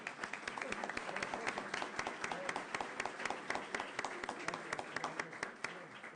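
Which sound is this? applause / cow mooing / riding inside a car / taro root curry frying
applause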